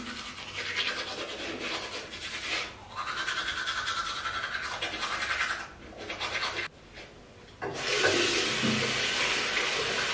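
A toothbrush scrubbing teeth in a bathroom, with steady close brushing strokes in bursts, brief pauses and a louder stretch at the end, with faint water in the background.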